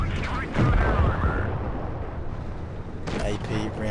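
Tank cannon fire in the online tank battle game Supremacy, armor-piercing rounds hitting a T-62: a heavy boom near the start and another burst around the three-second mark, over continuous rumbling game noise, with a voice talking briefly.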